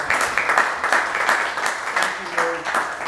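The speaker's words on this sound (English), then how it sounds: "can we give Lou Gallo and all of his staff a huge round of applause" A festival crowd at an Italian festival claps in a steady, fairly close round of applause, with a voice briefly speaking over it near the end.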